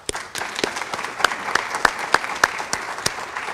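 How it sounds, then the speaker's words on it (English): An audience gives a round of applause at the opening ceremony of an inaugural art gallery exhibit at the Bicknell Family Center. It starts thin, swells into a steady crowd clapping with distinct sharp claps, and holds for several seconds. "give a round of applause for all those individuals"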